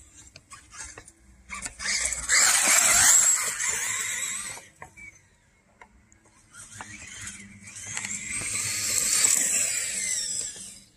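A Traxxas Maxx RC truck on Defender 3.8-inch tires whines with a high electric motor pitch, rising in two long surges separated by a brief lull, close by and without talk.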